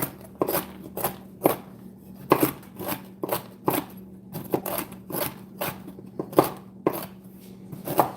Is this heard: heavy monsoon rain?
no